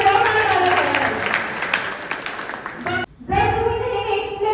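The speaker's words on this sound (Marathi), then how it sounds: "जबरदस्त जोरदार टाळ्या झाल्या." Loud, sustained applause from an audience at a police bandsman recruitment guidance camp in Nashik, filling the first three seconds, then breaking off abruptly as a voice begins speaking over the room.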